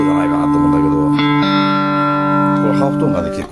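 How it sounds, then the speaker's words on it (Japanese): Electric guitar through a Fender G-DEC Junior amp set to a Fender Champ voicing, ringing sustained chords with a slight echo tail, close and steady before fading at the end. "フェンダーのチャンプの音じゃないかなと思うんだけど"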